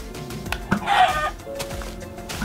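Chicken in a video game clucks and crows in a short burst, near and fairly loud over a steady game background.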